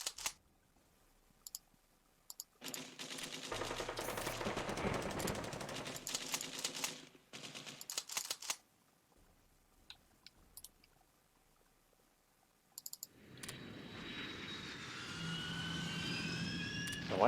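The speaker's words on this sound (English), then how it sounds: "Now, why are they bombing there?" Bombing in the Hearts of Iron 2 strategy game comes as loud bursts of rapid explosive gunfire-like noise, stopping and restarting in separate blasts, with a rising siren-like sweep near the end and no talk.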